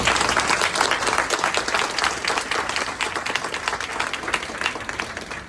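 Sustained applause from a large audience, dense and steady clapping that fills the whole stretch without letting up.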